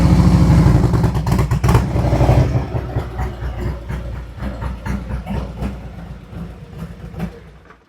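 A Harley-Davidson Road Glide motorcycle fitted with a 180mm front tire, its engine running with a loud throbbing rumble up close that gradually eases and fades toward the end.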